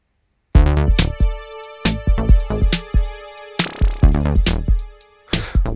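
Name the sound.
electro splutter bleeps from Behringer Pro 1 synth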